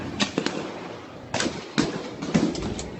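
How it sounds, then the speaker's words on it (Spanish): Several sharp gunshots crack out at irregular intervals, moderately distant, with a steady background hiss between the reports. "Bueno, están pegando los tiros ahí"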